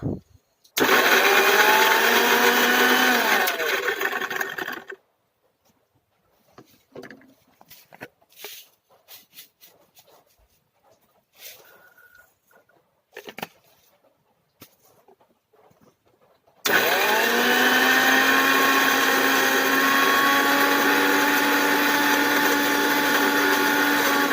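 A mixer grinder blends beetroot in two loud, steady bursts, a few seconds at the start and a long run near the end, with quiet handling sounds and brief pauses between them.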